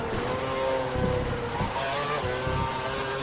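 Racing cars in an F1 video game at Monza, Italy 2012, drone steadily and loudly with a continuous engine tone throughout, with a few brief low thumps underneath.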